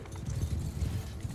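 Cavalry horses galloping in the video game Mount & Blade II: Bannerlord, a dense rumbling patter of many hooves in rapid rhythm, loud and continuous over a short stretch.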